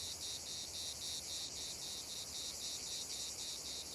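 Insects chirp steadily among hot rocks in sunny Provence, a dense continuous buzzing trill with a regular pulsing rhythm, no voices.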